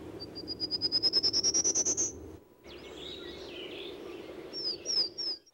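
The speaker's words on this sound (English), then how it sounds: "This in particular is a prairie warbler." A prairie warbler sings a rapid series of buzzy notes rising steadily in pitch, clear and fairly close, then gives softer chips and twittering calls over a steady low background hum.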